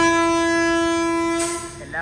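A train sounds a long steady horn blast at Nileshwar station, the tone holding loud and close before rumbling movement and a brief squeal come in as it starts to pull away.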